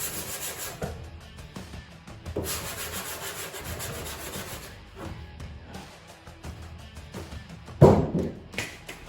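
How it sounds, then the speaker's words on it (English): Someone hand-sands a car body with irregular rubbing and scraping strokes, fairly close, with pauses and a sharp knock near the end. "we've been sanding on this car for 3 days"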